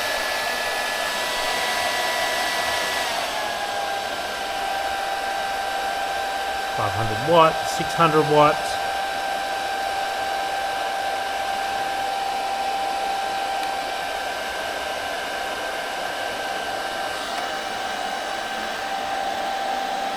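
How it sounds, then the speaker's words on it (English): A hair dryer powered through an inverter from a Renogy 100Ah Pro Lite lithium battery drones steadily, its pitch shifting as it settles early on, while someone speaks briefly over the constant airflow. "turn on the hairdryer"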